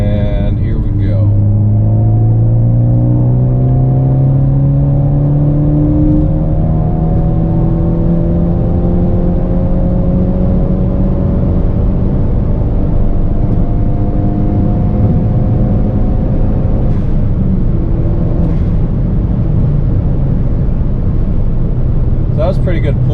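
A Ford Focus ST pulls at open throttle in fourth gear up a slight incline, its engine note rising steadily and loudly for most of the stretch, heard from inside the car.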